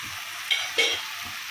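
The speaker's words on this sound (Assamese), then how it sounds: "এইখিনি অলপ টাইম ভাজি ল'ম।" Fish frying with ginger and garlic in a hot pan sizzles under a constant hiss, with two brief scraping clicks of stirring.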